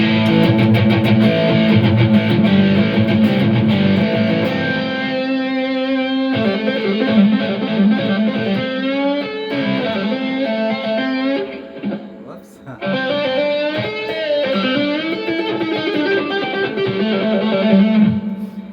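Electric guitar played through a distortion effect, shifting from light clipping to heavy saturation, a dense sustained buzzing tone with sliding, bending notes held at a steady loud level, briefly dipping before returning full.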